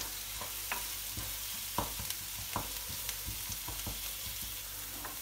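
Onions frying with tomato and pepper paste in a pan, a steady sizzle under repeated spoon strokes and light taps against the pan, close and even throughout, with no talking.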